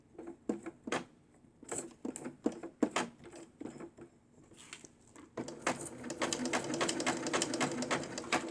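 A sewing machine stitches buttons onto fabric, first with slow, separate mechanical clicks and pauses, then settling into a faster, continuous run of stitching at close range.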